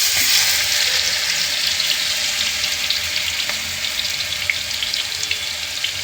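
Ginger garlic paste sizzling steadily in a hot pan for a dense, continuous hiss with scattered crackles and no voices, cooking for eggplant ghee rice.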